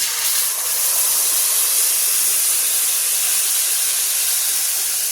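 Tamarind pulp hits a hot pan with mustard and fenugreek seeds, giving a loud, steady, close sizzling hiss that holds evenly throughout with no voices.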